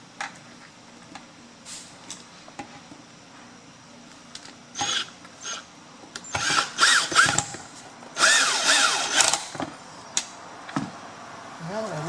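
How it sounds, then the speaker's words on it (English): A power drill drives screws into a Larson Signature storm door frame, with short bursts of whirring close by separated by pauses. "now with the holes drilled, I should be able to mount these screws"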